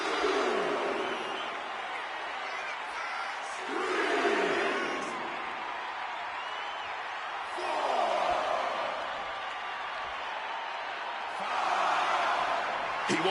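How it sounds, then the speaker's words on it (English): Arena crowd noise in the WWE 2K26 wrestling video game, a sustained roar of cheering that swells in repeated waves, with commentary-like voices and whooshing game effects over it. "CM Punk playing to the crowd now."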